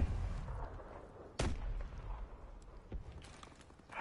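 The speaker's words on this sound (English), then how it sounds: "Grenade out." A grenade blast in Call of Duty: Advanced Warfare lands as one sharp, loud boom near the middle, followed by a rumbling tail and faint scattered gunfire in the distance.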